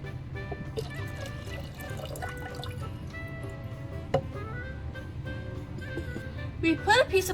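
Water is poured into a jar to clean it out, with trickling, dripping and splashing sounds, close and fairly quiet, under a voice speaking.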